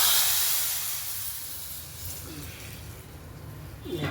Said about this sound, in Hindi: और इसमें तड़का लगा देते हैं।